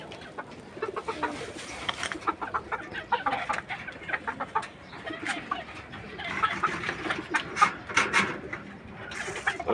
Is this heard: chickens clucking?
yes